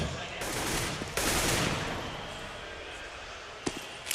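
Rapid bursts of automatic gunfire ring out from a CS:GO match at the ESL One Cologne 2014 semifinal, dense and continuous, with a sharp single shot near the end.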